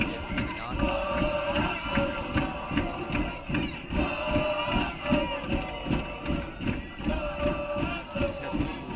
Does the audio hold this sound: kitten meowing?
no